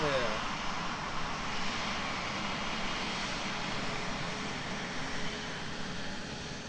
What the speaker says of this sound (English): Straight out departure for the Singapore Airlines A350-900 today, I would imagine.